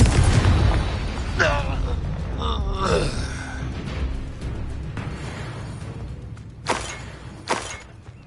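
The Confringo blasting curse erupts in Hogwarts Legacy with a heavy boom at the start and a rumbling tail, followed by scattered sharp bursts. A voice talks over parts of it.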